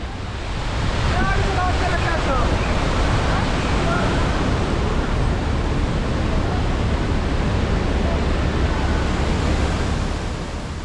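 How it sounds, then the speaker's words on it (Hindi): A fast-flowing mountain stream rushing beside a rough roadside in the Kishtwar–Killar area, a loud, constant broadband roar heard steadily from start to finish. "ऊपर से नाले का तेज़ बहाव है"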